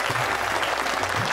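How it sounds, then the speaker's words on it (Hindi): Loud, dense applause from a crowd at a celebration fills the short stretch evenly, a steady wash of clapping with no voices standing out. "जोरदार ताली"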